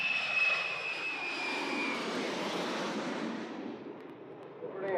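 A jet transport aircraft touching down at a military airfield in wartime Vietnam: a loud, steady broadband jet roar with a thin high whine across it, easing slightly toward the end.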